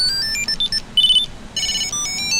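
Tile Mate Bluetooth tracker on a set of keys ringing nearby, a loud repeating electronic melody of short high tones in bursts, with brief pauses between phrases.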